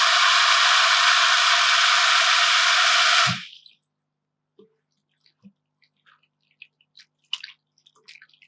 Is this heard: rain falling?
no